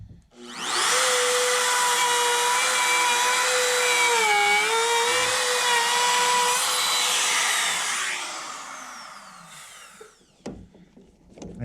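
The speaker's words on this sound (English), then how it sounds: "I just clamp this on and use my pattern bit to start the cut." A router fitted with a pattern bit cuts a timber girder for a barn floor, guided by a clamped jig. A loud, steady, high whine holds for about seven seconds with slight pitch dips, then winds down and stops.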